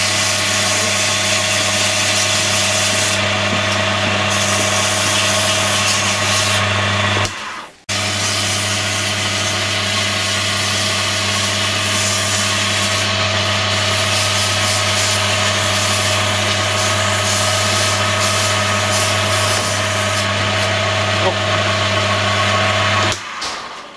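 A wood lathe spins steadily while a turned pen blank is sanded with fine 400-grit paper, a continuous close whirring hum with a brief dip partway through and no talk.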